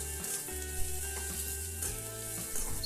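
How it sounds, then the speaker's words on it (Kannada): Onion and yellow and green capsicum frying in a pan, a steady close sizzle with low hum running throughout, a few brief stirring bumps, no voices. "ಸ್ವಲ್ಪ ಫ್ರೈ ಮಾಡಿ"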